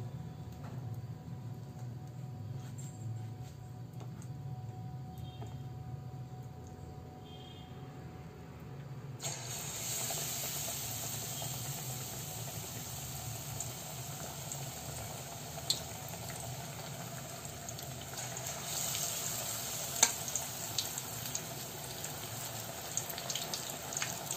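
Capsicum bajji frying in hot oil: a quiet low hum gives way to a steady, bright, close sizzling hiss that continues without pause, with a few small pops near the end.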